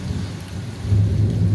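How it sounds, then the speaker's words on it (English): Thunder rumbling over steady rainfall on a rainy morning in Barbados, the low rumble swelling louder partway through while the rain hisses on. "what a rainy morning we're having in Barbados."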